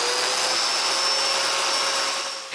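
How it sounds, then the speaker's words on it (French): A Domino joiner cuts mortises into wood for a box that raises a sewing machine, giving a loud, steady, close-up motor whine with a broadband cutting hiss that tapers off at the end. "C'est assez facile de percer les mortaises."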